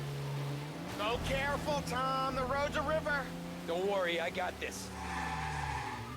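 A very heavy car in the Mafia video game, driving with a continuous engine drone and tires squealing through turns, under someone talking over it throughout.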